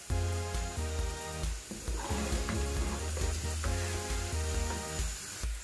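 Onions frying in oil for a tadka while cooking chicken daleem, a steady close sizzle with occasional stirring clinks and scrapes throughout.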